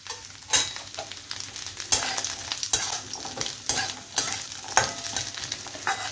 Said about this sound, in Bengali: নারকলটা ভাজা হয়ে গেছে